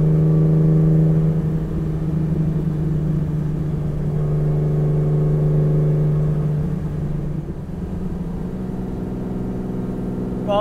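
A car engine running steadily during a short drive, a loud continuous mid-pitched drone with slight shifts as the revs change, no voices over it.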